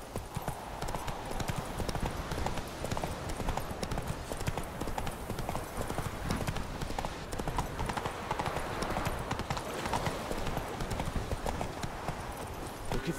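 Roach the horse trotting in The Witcher 3, with steady rhythmic hoofbeats throughout, close and moderately loud over ambient outdoor noise.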